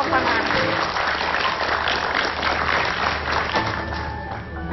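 Applause from an audience at a children's magic show on a TV talk program, steady dense clapping throughout with some voices mixed in.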